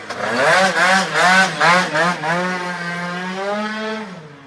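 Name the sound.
scooter engine revving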